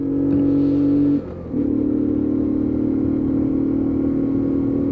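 A Lexmoto Aspire 50cc motorbike pulls steadily through its gears, a constant buzzy engine note that dips briefly at one shift before carrying on evenly at close range.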